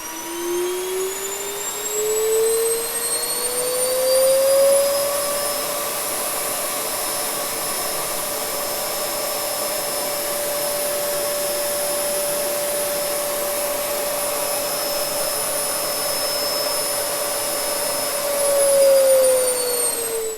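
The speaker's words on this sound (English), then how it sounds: "I have fine control over the power setting of the vacuum cleaner" A vacuum cleaner motor whines up to full power, its pitch rising steadily, holding a loud continuous roar, then climbing again near the end.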